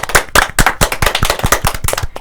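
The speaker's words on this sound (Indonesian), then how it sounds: "tepuk tangan dulu guys" A small group claps loudly and close up for a student, a brisk, uneven run of sharp hand claps that lasts a couple of seconds.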